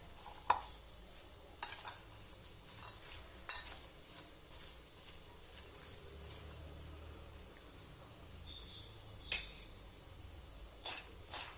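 Crispy okra (bhindi) fry tossed with garam masala in a pan, heard as faint, sparse stirring scrapes and occasional utensil taps over a quiet low sizzle.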